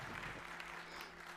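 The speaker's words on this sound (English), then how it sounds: "Applause." Audience applause during the AMD keynote at CES 2019, a faint, distant wash of clapping from a large hall under a steady low hum.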